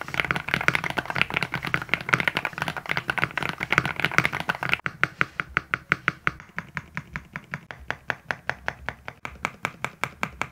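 Rapid typing on a stock SUGAR65 mechanical keyboard, dense at first, then slower individual keystrokes with a clear clacky rhythm, close and alone.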